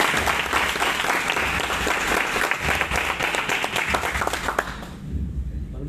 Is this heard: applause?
yes